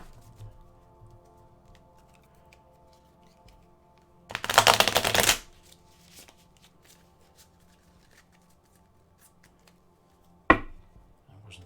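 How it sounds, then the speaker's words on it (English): Tarot cards are shuffled in one brisk riffle lasting about a second, followed later by a single short snap of the deck, against an otherwise quiet room. "You have to sort of know when you're done shuffling."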